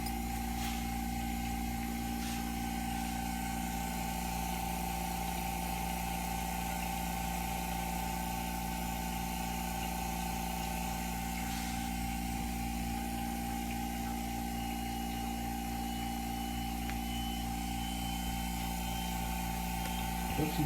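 The gyroscope in an artificial horizon spins up to speed, producing a steady, continuous whirring hum with sustained tonal whine that runs uninterrupted for about twenty seconds.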